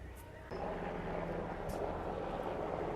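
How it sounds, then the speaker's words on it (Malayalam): A navy helicopter passes overhead near a naval base in Fort Kochi, heard as a quiet, steady low rumble that swells in after a brief lull and holds to the end. "നേവിയുടെ ഹെലികോപ്റ്റർ പോകുന്നുണ്ട് കേട്ടോ നമ്മുടെ കൂടെ."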